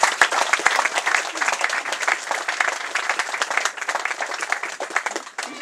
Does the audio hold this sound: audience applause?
yes